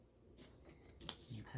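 Scissors snip through leftover T-shirt fabric, a single crisp cut sounding close after some faint rustling, with a soft fabric shuffle following.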